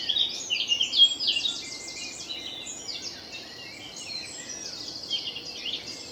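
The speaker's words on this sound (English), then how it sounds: "blackbird, always the first to sing." Birdsong rises through a dawn chorus at a nature reserve in Low Moor, with fluid, varied phrases heard clearly at first, then softer overlapping calls continuing against a quiet background.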